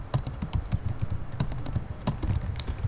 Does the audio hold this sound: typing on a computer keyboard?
yes